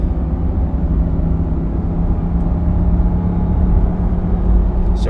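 A 2022 Ram 2500 with the 6.4 engine, 3.73 gears and 37-inch tires tows at about 70% throttle in tow haul mode near Castle Rock, Colorado, giving a steady loud cabin drone and rumble.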